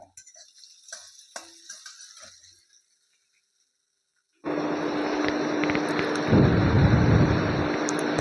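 Cashew nuts ground into a paste: after a few quiet clicks and a short silence, a loud, steady, rough whirring grind starts and runs unbroken to the end, with no talking.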